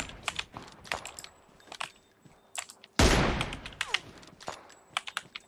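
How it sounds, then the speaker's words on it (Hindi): PUBG Mobile gunfire, mostly sharp scattered single shots at varying distances, with one loud close burst in the middle followed by more spaced cracks. "पता नहीं शॉट किस चीज का था"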